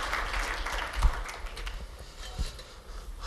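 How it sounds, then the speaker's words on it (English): Audience applause at a cloud computing expo general session fills a large hall, a fairly quiet, steady wash of clapping that lasts the whole moment with slight swells. "let's have a thunderous round of applause"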